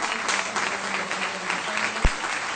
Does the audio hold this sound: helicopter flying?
no